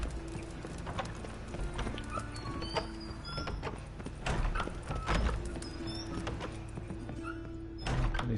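Horse hooves clip-clopping in The Witcher 3 video game, a quiet, irregular series of hoof strikes at a walking pace with occasional snorts and faint game ambience, no talk over it.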